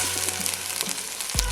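Two onions fry in a pan with a dense, steady sizzle close up and a few soft stirring scrapes, ending in a brief louder knock.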